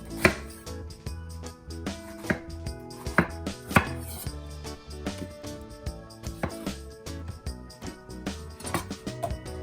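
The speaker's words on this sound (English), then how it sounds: "we're gonna start by prepping and chopping some white onion, tomatillos, garlic, and serrano peppers" A knife chops white onion, tomatillos, garlic and serrano peppers on a cutting board in irregular bursts of sharp taps, close and fairly quiet, with background music playing underneath.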